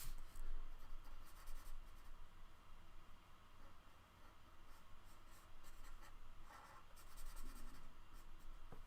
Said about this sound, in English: I'm using Sharpies to color this in